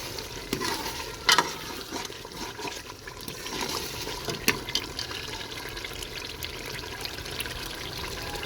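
Mutton paya mixture with crushed coriander being stirred in a pot: wet squelching and scraping of the spoon over a faint sizzle, with a few sharp clinks, close and moderately loud, no talk.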